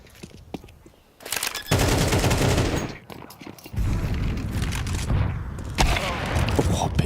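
Gunfire in a Counter-Strike 2 match at a Shanghai Major: bursts of rapid shots and heavy reports, with a loud sustained volley in the middle and another at the end, under excited talk.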